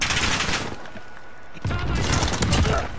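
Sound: grenade explosion in video game Call of Duty Modern Warfare

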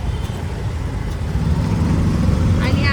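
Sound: auto rickshaw approaching from behind on the road

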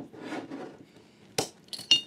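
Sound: pouring mead into glasses, glass clinking

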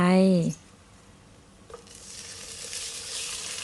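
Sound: catfish pieces sizzling as added to the frying pan

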